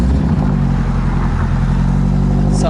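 A loud supercharged Subaru BRZ engine with quad exhaust rumbles and revs steadily up close, a deep throaty drone with strong low harmonics throughout.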